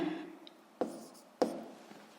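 A pen writes on paper, with soft scratchy strokes and two distinct taps as the tip meets the page, quiet and close with no speech.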